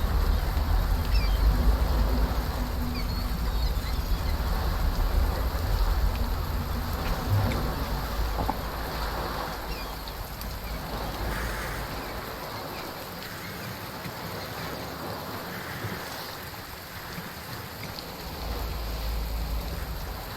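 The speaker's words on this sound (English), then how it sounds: "Oh, at least it's raining." Steady rain in the survival video game Under a New Sun, a soft continuous hiss with a low rumbling undertone, fairly even in level and with no talking over it.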